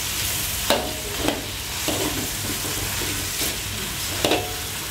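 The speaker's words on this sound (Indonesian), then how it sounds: "Terus lanjut kita masukkan oncomnya. Untuk oncomnya ini kita remukin di sini saja ya," Crumbled oncom stir-fried in a wok, with a steady close sizzle and several sharp scraping strokes of a spatula against the pan at irregular intervals.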